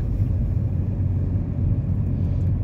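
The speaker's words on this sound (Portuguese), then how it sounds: "Nossa, aqui sempre tem carro, né? Nessa rotatória aqui" Car traffic circling a city roundabout at night: a steady low rumble of engines and tires, fairly close and continuous, with no distinct passes and no talking.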